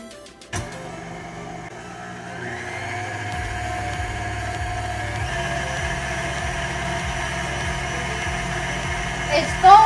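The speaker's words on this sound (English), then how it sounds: "I am going to be using the whisk attachment in my KitchenAid mixer to mix up the cream for the filling" KitchenAid stand mixer with whisk attachment whipping heavy cream, a steady motor hum that rises in speed partway through, with a rhythmic whirring beat, close and continuous.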